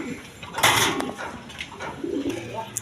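A big-sized pair of high-flying Giribaz pigeons, male and female, coos softly at close range, mixed with sharp bursts of rustling and clatter.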